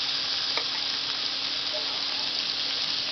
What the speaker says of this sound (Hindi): आपको उसमें हम उबले हुए केले को इस तरह से फैलाकर अच्छे से उलट पलट कर